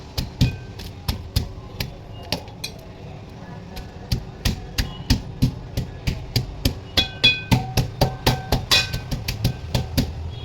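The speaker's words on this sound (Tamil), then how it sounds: "அதுலேயும் கட் பண்ணிலாம் இல்லை, இந்த மாதிரி தட்டி சாப்பிடணும்." Vegetables are pounded by hand for curd pachadi, sharp repeated thuds at an uneven pace at first, then a faster, steadier run of blows in the second half, close and fairly loud.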